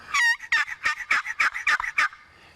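A box turkey call with a magnetic lid gives a series of about nine soft yelps, close and clear, in an even rhythm against silence.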